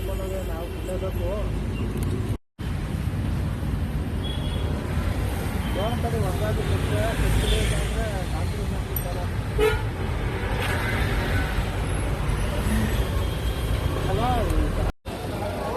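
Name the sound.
road traffic with car horns honking in Bangalore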